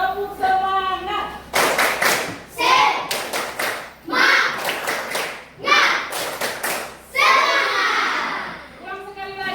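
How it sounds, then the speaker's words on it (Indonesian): A class of children does a rhythmic spirit clap, bursts of clapping in a steady pattern with the kids chanting along, loud and close. "Coba semuanya, tepuk semangat"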